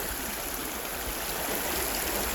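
Steady rushing of creek water flowing over rocks while hunting for stone totem pieces, a continuous broadband wash with no voices, fairly close and even throughout.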